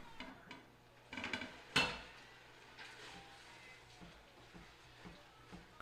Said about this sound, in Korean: 과감하게 버리고 큰 냄비로 옮겨줍니다